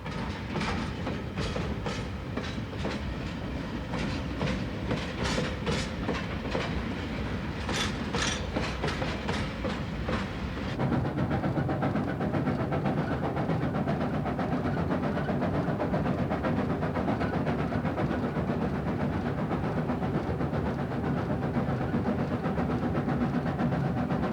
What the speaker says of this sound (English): the Chinese government provided a special train for the expedition